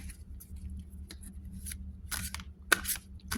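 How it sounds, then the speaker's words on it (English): A tarot card deck is shuffled by hand in quiet surroundings, producing several brief, close crisp riffling and flicking bursts separated by short pauses. "let's see how these are to shuffle"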